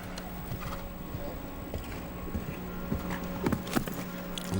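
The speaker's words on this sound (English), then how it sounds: "Lovely horse, this grey horse." A ten-year-old grey Holsteiner gelding walks at a show-jumping World Cup Final in Las Vegas, its hooves clip-clopping faintly and irregularly over a steady arena hum.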